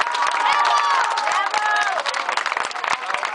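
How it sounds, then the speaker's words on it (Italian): An audience in Piazza Bellini applauds and cheers at a documentary screening, dense clapping mixed with crowd voices and shouts throughout, loud and steady before thinning slightly toward the end. "E mi permetto di fare un applauso per un lavoro meraviglioso."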